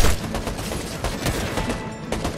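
Gunfire in Fortnite, a loud continuous barrage of shots with a steady crackling rhythm that fills the whole short stretch with no pauses.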